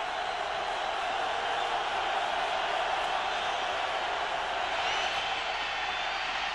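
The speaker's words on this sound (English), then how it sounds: "The crowd yelling defense on its feet." A football stadium crowd in Buffalo at a 1996 playoff game between Jacksonville and the Bills roars and yells for defense, a dense, continuous wall of distant voices with a broadcast commentator faintly underneath.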